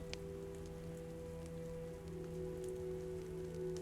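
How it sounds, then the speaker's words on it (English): Steady rain falls in The Walking Dead video game, a soft continuous patter with a low constant hum underneath, faint and unbroken, with no voices. "But it's raining though."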